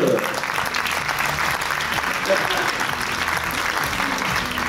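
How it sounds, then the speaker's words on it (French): An audience at a talk on security and the social contract applauds a guest being introduced, steady sustained clapping from many hands filling the room at a fairly even level. "Applaudissez-le."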